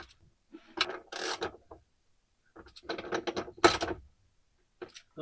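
Bolts are checked for tightness by hand during gearbox reassembly, giving several close bursts of ratcheting, metallic clicking separated by quiet pauses.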